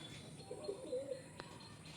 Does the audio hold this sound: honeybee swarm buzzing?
no